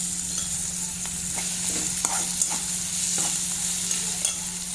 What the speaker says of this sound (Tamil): வெங்காயம் இப்போ பொன்னிறமாக வதக்கியாச்சு. இதோட நம்ம தேங்காய் ஆட் பண்ணிக்கலாம்.